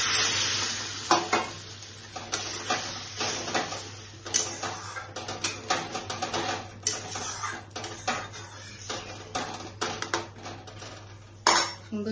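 Spices sizzle and frying food is stirred in a pan of chola dal as water goes in, with scraping, clinking utensil sounds and intermittent bursts of crackle over a steady background hum, no voices.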